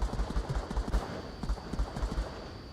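Bursts of gunfire from a PAL-VR competitive virtual reality shooter match, a series of quick repeated shots spread through the clip at moderate level, with faint background game ambience and no talk.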